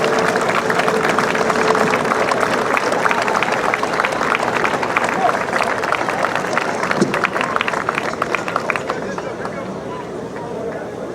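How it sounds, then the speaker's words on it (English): A crowd at a senior all-star game applauds public servants, with sustained clapping mixed with cheering and crowd babble from start to finish, tapering slightly near the end. "let's have a nice round of applause for our public servants"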